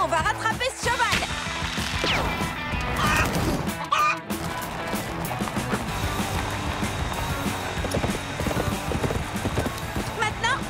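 A galloping horse, hooves clip-clopping in a steady rapid rhythm with crashes and a whoosh, close and loud, while voices talk and shout over it.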